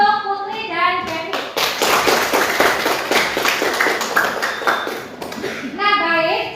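Classroom applause for two students, a burst of brisk clapping from a group that runs several seconds, framed by a teacher's voice speaking before and after.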